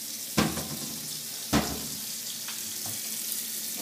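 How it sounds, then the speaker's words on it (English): Kitchen tap left running into a sink, a steady soft hiss of water with a couple of sharp knocks and clinks over it. "We're going to let this water run a little bit."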